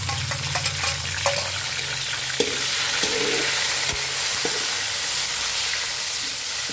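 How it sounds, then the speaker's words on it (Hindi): Steady sizzling and frying hiss of ginger garlic paste and tomatoes in a pan, with occasional stirring clinks and scrapes of a utensil. "इस तरह से जो हमारे अदरक लहसुन की पेस्ट है वो भी फ्राई होगी"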